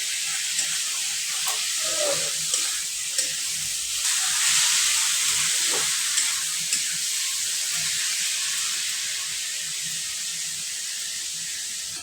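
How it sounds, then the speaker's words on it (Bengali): Eggplant and tomatoes frying with spices in a pan, a steady soft hiss of oil that swells briefly near the middle, with a few faint stirring knocks early on and no talk. "এখন আমার বেগুনগুলি আর টমেটোগুলো একটু মশলার সাথে ভাজতে হবে।"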